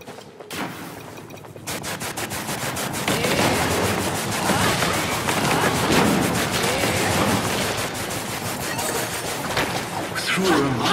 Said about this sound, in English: Through a remarkable feat of marksmanship, Elf shot the food.